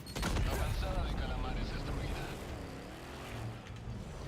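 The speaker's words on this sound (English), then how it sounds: "this thing also has a automatic machine gun" Automatic machine gun fire in a video game, a dense, loud burst of rapid shots through the first seconds, then continuing more faintly under background game noise.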